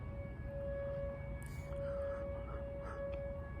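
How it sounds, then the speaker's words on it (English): An air raid siren holds a steady tone over low background rumble, distant and fairly faint and continuous throughout, with no talking. "It's an air raid siren"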